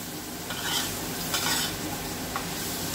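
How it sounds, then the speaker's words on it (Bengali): Fried yam being stirred into a hilsa curry in a pan, with close scraping and stirring strokes over a continuous sizzle of frying. "এবার আমি ভেজে রাখা ওলটা এর সঙ্গে মিক্স করে নেব।"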